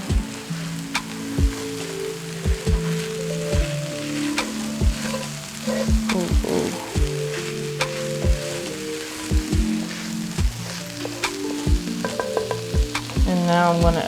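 Food sizzles steadily in a hot pan over medium heat while a utensil stirs, scraping and knocking in irregular strokes close by, with no voices.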